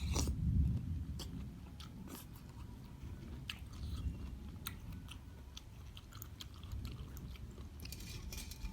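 Someone chewing crunchy bamboo shoots in a mushroom curry, close and moist, with repeated irregular crisp crunches and bites over soft squishing, quiet and alone.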